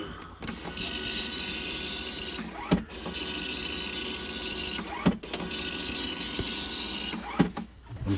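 A Commodore 64 printer runs close by in repeated passes, a steady mechanical whirring and buzzing broken every couple of seconds by clunks as the print head reverses.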